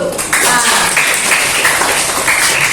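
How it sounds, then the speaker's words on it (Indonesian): Applause from a congregation at a Buddhist Dharma talk, steady dense clapping at close range, filling the whole short stretch without a break. "tepuk tangan dulu"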